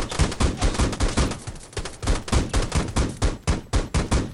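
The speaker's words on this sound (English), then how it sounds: "What, more shots?" Rapid gunfire in the battle-royale shooter Rules of Survival, a string of sharp shots in quick, fairly regular bursts, loud and close, with one short gap midway and no talk over it.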